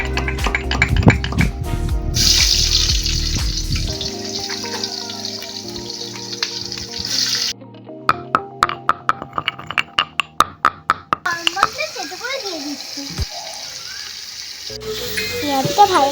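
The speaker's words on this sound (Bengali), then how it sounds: "এবার পেঁয়াজ দিয়ে দেবো।" Onions dropped into hot oil with dried chillies for mutton biryani, giving a loud broadband sizzle that fades and gives way to sharp clinks and scraping of stirring, with the hiss rising again near the end.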